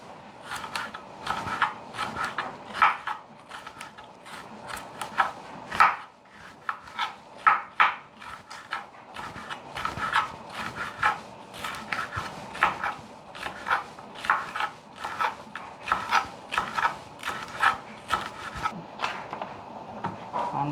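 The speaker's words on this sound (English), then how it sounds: "Cut up some green sweet pepper also." A knife chops green sweet pepper on a board for a Jamaican breakfast of callaloo and saltfish, making a steady run of close, crisp strokes with short pauses and no talking.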